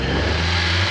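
A paramotor engine revs steadily as the throttle rolls on, a loud, close, continuous mid-pitched drone with a strong low hum, heard alone without speech.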